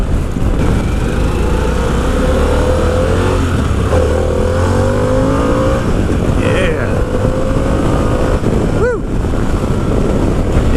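A 2025 Harley-Davidson Pan America ST motorcycle accelerates under a rider. The engine drone climbs steadily through the gears while heavy wind rush roars over it, and a short sweeping whine rises near the end.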